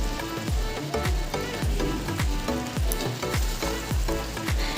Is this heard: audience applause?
no